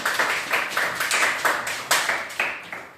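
Children in a government school classroom clap together in a brisk, even rhythm, a dozen or so sharp close claps in quick succession without any talking.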